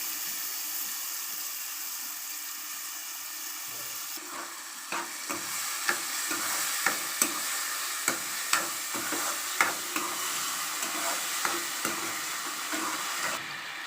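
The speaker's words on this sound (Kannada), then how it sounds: "ಈಗ ಇದಕ್ಕೆ ತುಪ್ಪದಲ್ಲಿ ಹುರಿದ ನಂತರ ಸಕ್ಕರೆ ಹಾಕ್ಕೊಳ್ತಾ ಇದ್ದೀನಿ." Mango fried in ghee is stirred with sugar in a pan, a soft sizzle running throughout while a spoon scrapes and taps the pan in a string of sharp, regular clicks during the second half.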